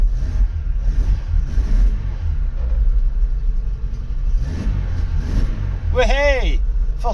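A 1.6 engine in a Vauxhall Astra Mk3 saloon, idle for years, rumbles steadily and close with a slight rise and fall, while someone briefly whistles near the end.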